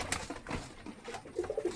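Pigeons, including a red-necked breed, coo softly in a loft, with a few low murmuring calls near the end over faint background rustle.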